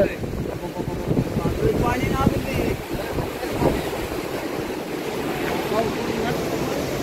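Rushing water roars steadily at a dam during heavy rains, beneath wind buffeting the microphone, with people talking over the constant torrent.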